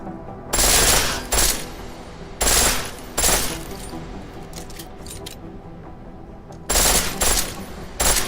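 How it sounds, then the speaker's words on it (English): A pistol firing in full-auto mode in Deus Ex Mankind Divided, loud rapid bursts of shots in several clusters separated by short pauses, close and with no talk. "The pistol in full auto will take down targets fast."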